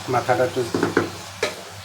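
Fish pieces dropped into a hot frying pan set off a string of short, sharp sizzling bursts, several in quick succession and one more after a pause, close and moderately loud.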